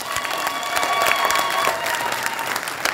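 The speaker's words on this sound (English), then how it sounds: "a mighty clap for the Lord" Dense audience clapping fills a church choir gathering with steady, loud applause throughout, no voices standing out above it.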